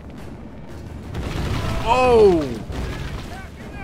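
A siege artillery impact in the Rome Total War video game: a loud booming crash with a rising whoosh that swells and fades over background battle noise, while a person exclaims briefly.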